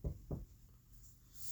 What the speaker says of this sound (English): Inko hears a knock on the door